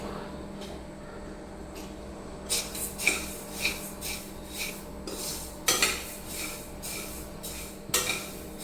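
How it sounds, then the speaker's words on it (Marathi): Coriander seeds are dry-roasted in a pan, a series of scraping, rattling strokes of a spatula against the metal in an irregular rhythm, close and moderately loud over a low steady background hum. "तर आता आपल्याला धने भाजून घ्यायचे"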